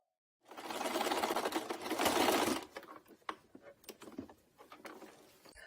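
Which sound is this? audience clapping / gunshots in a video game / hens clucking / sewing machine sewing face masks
sewing machine sewing face masks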